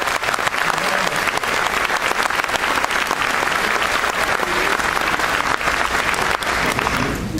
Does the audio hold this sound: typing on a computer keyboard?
no